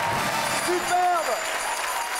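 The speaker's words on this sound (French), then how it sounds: "Il est superbe, on l'applaudit fort!" A TV game show studio audience applauds a contestant: a short burst of clapping and crowd noise under a voice talking, with a brief rising vocal exclamation in the middle.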